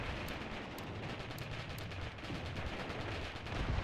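High explosive shells from a 10.5 artillery gun land in a Mius Front battle, producing faint, distant rumbling impacts and scattered sharp cracks over a low, continuous battlefield din.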